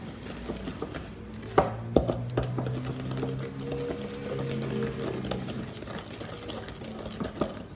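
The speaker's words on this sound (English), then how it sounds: "now you're going to mix it until it's all combined in." Cookie dough with vanilla extract being mixed by an electric mixer in a bowl, a steady motor whine with a shifting pitch, plus occasional clanks of beaters against the bowl and light kitchen clatter nearby.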